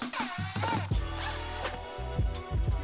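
Removing a Torx screw from a Porsche 987/997 center console, a close, short whirring and ratcheting of a tool in uneven bursts.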